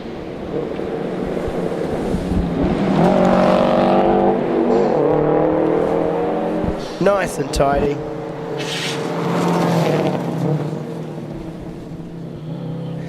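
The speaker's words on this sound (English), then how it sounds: "now in the Subaru Impreza" Subaru Impreza rally car on a gravel stage at a New Zealand rally, engine revving and droning past under commentary voices, with a sharp burst of gear changes midway.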